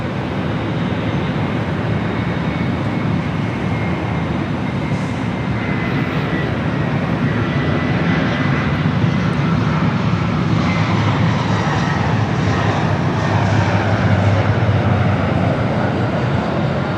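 A Delta heavy jet airliner arriving at Los Angeles International Airport: a continuous broad engine roar, loud and steady throughout, with no voices.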